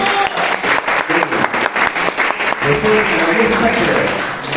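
Audience applause at a Hindi poetry recitation, loud dense clapping from a crowd that swells then settles into a sustained roar, with a voice speaking over it.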